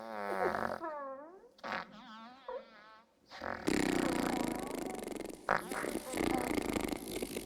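A fart noise made for a joke, a long loud buzzy blast following a few seconds of voiced sound that may be vocal imitation, then a second rough burst near the end.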